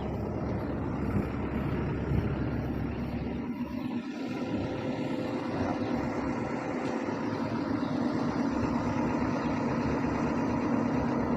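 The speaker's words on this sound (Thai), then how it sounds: "มาฟังเสียงเครื่อง" A Kobelco SK200-8 excavator's diesel engine idles close by, a steady low continuous rumble with a brief dip partway through and no talking.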